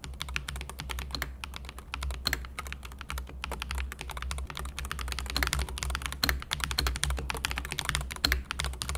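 Steady, fast typing on a magnetic-switch keyboard, light clacking keystrokes in a continuous rhythm, close up, over a low background hum.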